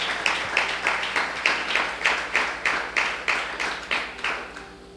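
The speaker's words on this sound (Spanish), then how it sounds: "¿Cuántos aplauden al bendito sea?" A church congregation claps in unison during a Spanish-language sermon, about a dozen crisp, evenly spaced beats in a steady rhythm that soften slightly toward the end.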